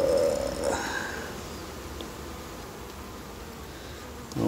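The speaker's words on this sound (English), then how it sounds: "Keeps the bees from getting upset." Honey bees buzzing around an open mating box, a close, loud, continuous hum with a few louder drone swells at the start and end.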